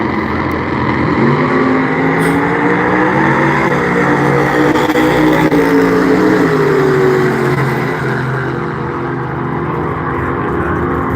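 Drag racing cars, a dragster and a square body Chevy at the Halloween Classic, roar past as a loud, continuous engine drone whose pitch rises and falls, with no voices over it.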